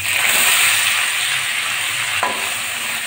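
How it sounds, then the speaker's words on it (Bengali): Chopped onion, garlic and green chili hit hot white cooking oil in a kadai with a loud, close, hissing sizzle. The sizzle holds steady, with a brief stirring scrape near the end, and no voices. "আমি এখন পেঁয়াজ রসুন আর কাঁচা লঙ্কা কুচিটা তেলের ভিতর দিয়ে দিচ্ছি।"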